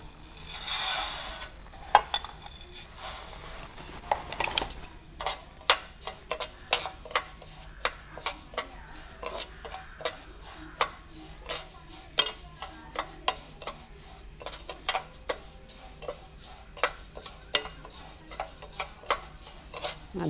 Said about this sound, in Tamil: எண்ணெய் சட்டி நல்லா காஞ்சிட்டு அரிசியை போட்டு வறுத்துப்போம்.